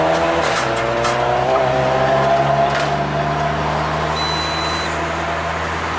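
A Honda Civic Si accelerates hard in a street drag race, its engine note rising steadily and loud, with a brief tire screech near the end and no talking.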